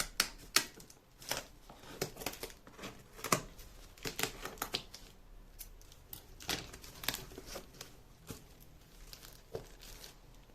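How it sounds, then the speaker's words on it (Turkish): A firmly packed cardboard book parcel is pried open, with close sharp tearing, crinkling and scraping bursts coming irregularly and no talk. "Yalnız paket o kadar sağlam paketlenmiş ki bunu açalım."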